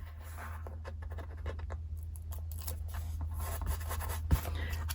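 Scissors cut a small piece of material for a handmade Guilded Rose photo album, giving faint, scratchy snipping and rustling over a steady low background hum.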